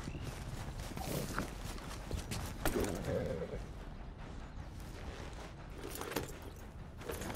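Horse hooves clip-clop in the video game Red Dead Redemption 2, a quiet, steady walking rhythm of soft hoof knocks over faint ambient game sounds.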